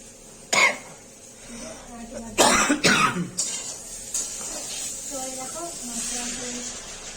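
Water hits hot fried spice masala in a pan with a sharp hiss, then a louder, longer burst of spattering steam. It settles into a quieter sizzle while a voice talks over it.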